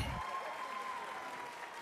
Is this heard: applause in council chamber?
yes